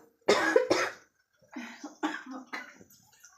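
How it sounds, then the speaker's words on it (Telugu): Two sharp, loud coughs come close together, followed by a few softer, rougher coughs after a short pause. "దగ్గు వచ్చేస్తుంది"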